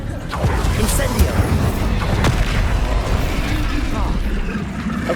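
Explosive Confringo and Bombarda spell blasts in the Hogwarts Legacy game, a dense, continuous barrage of booming impacts and crackling bursts layered over constant game ambience, loud throughout.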